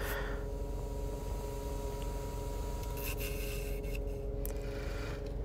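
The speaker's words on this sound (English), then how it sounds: "I'm doing all the hollowing with the circle carbide cutter" Wood lathe hollowing a bowl with a circle carbide cutter, giving a steady, dense scraping rasp that runs continuously at close range with an even level throughout.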